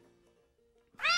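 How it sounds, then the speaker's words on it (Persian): A cat gives one loud, clear meow at the very end, after a stretch of faint low background sound in an indoor scene. "پیشت گربه یه لعنتی"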